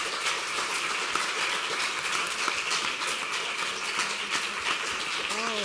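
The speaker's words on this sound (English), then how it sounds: "yeah, a big applause to them" An audience at a university guest lecture applauds with dense, even clapping that fills the whole stretch; a brief voice enters near the end.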